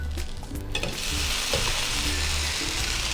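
Rice flour pancake sizzling steadily in a pan on a low flame, with a scrape and clatter early on as it is turned over, then a continuous close frying hiss.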